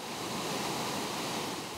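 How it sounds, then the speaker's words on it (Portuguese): A waterfall swollen by heavy rain roars as a steady, dense broadband rush of falling water, continuous and fairly distant with no voices. "Com as chuvas, o volume de água na cachoeira aumentou"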